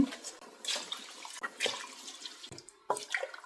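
Water is poured over soaked raw white rice in a cooking pot, uneven splashing gushes in several pulses with short breaks as more water goes in.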